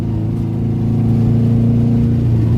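Car engine revving hard in neutral, a loud close steady drone with a strong low rumble and layered tones, held without pause for a few seconds.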